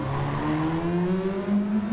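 A race car engine at Monza runs close and loud throughout, its rising tonal drone broken by a rough, rattling texture as it changes pitch on downshifts.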